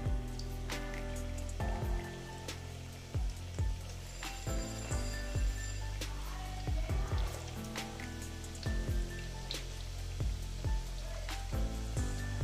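Flour-and-coconut snack pieces frying one by one in hot oil on low heat, a steady bubbling sizzle with crackling pops and sharp ticks from the pan, close and continuous.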